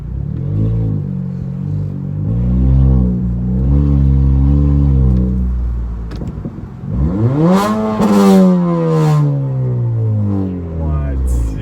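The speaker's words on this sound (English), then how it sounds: "I haven't even revved my car while driving" A 2019–2020 Honda Accord Sport 1.5T engine with its intercooler resonator removed revs up and down while driving, loud and close, with pitch sweeping higher in surges, then falling back.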